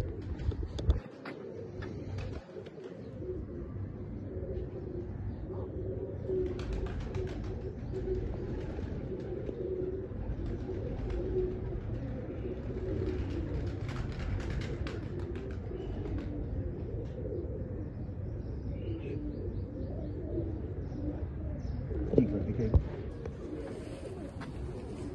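Slate Bichu breed pigeons cooing in a loft, a steady low murmur of overlapping coos running throughout with a few brief flutters and knocks near the end.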